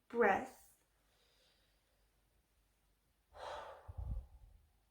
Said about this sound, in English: long breath